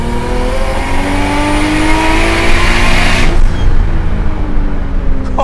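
A loud 500-horsepower single-turbo RB26 engine in a Nissan 240SX revs hard and climbs steadily in pitch, a sustained high-powered roar that drops off sharply near the end.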